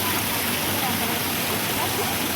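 A park water fountain splashes in a loud, continuous rush close by, steady and unbroken throughout.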